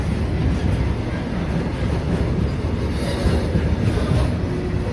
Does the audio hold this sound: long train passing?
yes